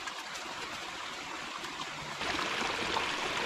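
A narrow creek flows steadily beside blackberry brambles, a continuous broadband rush of running water that grows slightly louder partway through, with no talking.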